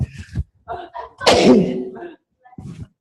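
A loud, forceful sneeze bursts out between brief bits of speech.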